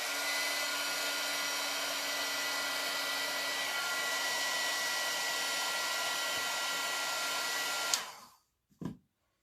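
A hair dryer blows a steady, loud whoosh to dry handmade lemon and lime cards, running without pause for about eight seconds before switching off, followed by a brief soft thump.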